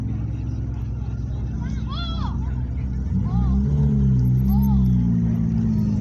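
A Porsche at a car meet outside a country inn revs its engine in loud, rising pulls, with other engines and crowd chatter running steadily underneath.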